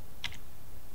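A few quick computer keyboard clicks sound close by, two near together and another at the very end, over a low steady background.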